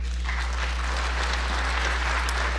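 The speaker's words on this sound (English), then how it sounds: "Folks, please hold your applause." Audience applause at a public hearing on gas drilling and fracking in Binghamton, a steady broadband wash of clapping with a constant low hum underneath and no voices.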